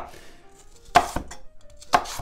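A knife chops celery for caponata on a cutting board, with two sharp, crisp chops about a second apart and quiet handling noises between them.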